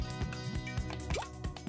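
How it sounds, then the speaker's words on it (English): A character diving into water in the Wave Race video game gives a series of watery plops and drips over continuous game music, fairly faint in the mix. "He just dived into the water."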